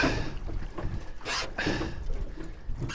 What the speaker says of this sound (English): Despite how goddamn windy it is